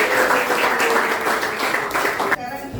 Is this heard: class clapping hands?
yes